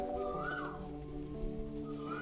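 A koel calls with clear, rising whistled notes, two phrases about two seconds apart, over a steady low background rumble in Bangkok.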